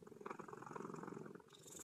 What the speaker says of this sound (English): I also purr